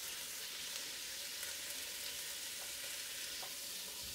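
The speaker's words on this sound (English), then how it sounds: "I just want to get that in and give it a little brown before I move on. Into that also goes my bacon." Pork and bacon browning in a frying pan for a stew, a faint, even hiss of sizzling fat that carries on steadily without voices.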